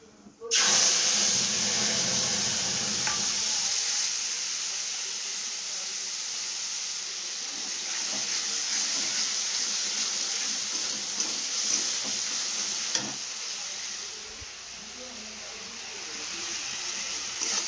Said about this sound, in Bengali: এবার ওই তেলে দিয়ে দিয়েছি একটু সাদা জিরে, তারপর দিয়ে দেবো মশলাটা।